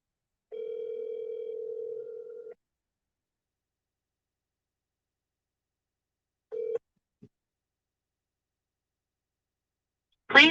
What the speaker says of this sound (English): You guys hear this ringing, right?